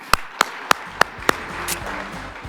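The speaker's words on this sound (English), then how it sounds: "Round of applause, please." At a trucking association ceremony honouring Josh and Graham, a few sharp, evenly spaced hand claps ring out close by, followed by a softer, scattered wash of applause from the audience.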